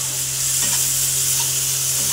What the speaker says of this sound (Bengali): চিংড়ি মাছগুলো আমি লাল লাল করে ভেজে নেবো